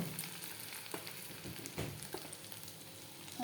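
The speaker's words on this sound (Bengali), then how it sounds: "এখন এই যে এখন যে মশলাটা কষাচ্ছি" Masala spice paste with turmeric and salt being sautéed in a pan, a faint, steady sizzle and frying crackle with occasional soft stirring scrapes.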